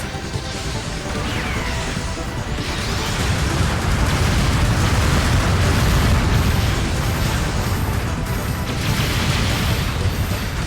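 Explosions and booming crashes from mobile suits being destroyed in the Jupiter Battle mode of Gundam Battle Operation 2, a dense, loud, continuous barrage of game-combat blasts with no talking.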